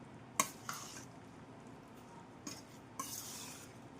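Poha dosa batter with salt and curd being stirred in a bowl: a few soft scraping clinks of a spoon against the vessel at intervals, faint and close, with no talk.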